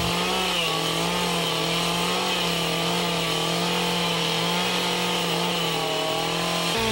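Chainsaw cutting an opening through a log cabin wall, a loud steady engine drone that holds nearly constant pitch throughout with a slight dip near the end, no voices.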